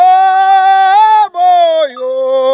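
Aboio, a Brazilian sung cattle-herding call from a rural pasture after rain, a loud solo voice holding long wavering tones, breaking briefly midway and then sliding lower.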